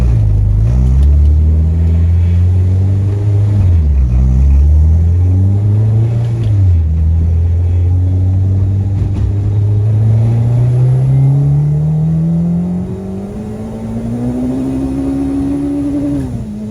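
A K-swapped, turbocharged Mini Cooper under hard acceleration on the road, its engine droning loudly and close with rising revs, brief dips at gear shifts, then a long climb before easing off.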